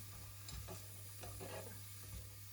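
Onions sizzle steadily in a hot frying pan while a utensil scrapes and stirs, all over a low hum.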